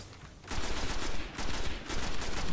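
Sustained rapid gunfire in the Destiny video game, loud and dense after a brief quieter opening, continuing in rattling bursts without talk.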